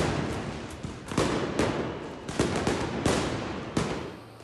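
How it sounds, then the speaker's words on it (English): Fireworks crack in sharp broadband bursts at a street protest in Georgia, about a dozen irregular bangs over a constant crowd roar, some close and loud, others farther off. "cracking fireworks"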